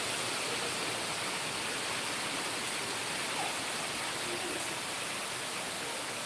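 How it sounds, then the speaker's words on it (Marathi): Heavy monsoon rain pours down at Amboli in the Konkan hills, a dense, steady broadband hiss that stays loud and unbroken from start to finish, with no voices rising above it. "पाऊस पडतोय जोरात"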